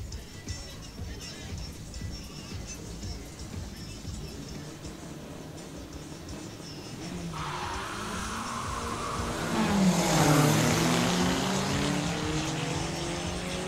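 Drag racing cars at a regional Amazonas drag racing championship time-trial round, engines rising from a steady rumble into a loud roaring launch down the strip, under a Portuguese announcer's commentary.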